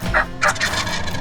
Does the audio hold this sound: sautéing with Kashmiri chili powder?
no